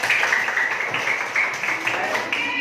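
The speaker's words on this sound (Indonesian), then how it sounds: "Tepuk tangan untuk kelompok 1." Classroom group applauding the first presentation group, a steady wash of clapping from a small audience that continues throughout, with voices mixed in.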